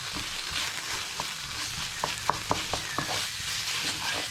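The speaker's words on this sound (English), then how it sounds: "about a tablespoon of my paprika, and I'm just going to give that a really quick light fry up" Paprika in a quick light fry in a pan with garlic, a steady soft sizzle with a few faint ticks and clinks of stirring, close and moderate, with no talking.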